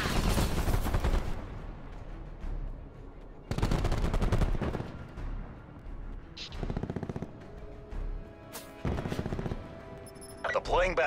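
Sniper rifle gunfire in Call of Duty Black Ops 4, sharp loud shots in several bursts with gaps between them, a voice talking over parts of it.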